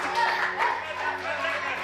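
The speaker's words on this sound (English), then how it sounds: "They're all cheering for their friends" Boys at Zaatari Refugee Camp in Jordan cheering and clapping for their friends, continuous busy clapping mixed with excited children's voices, fairly close and lively throughout.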